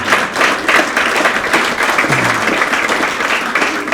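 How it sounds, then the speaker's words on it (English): Audience at a Republican committee meet-and-greet breaks into steady applause, a continuous crowd of clapping hands lasting the whole stretch with no one speaking over it. "You can clap for that one if you want."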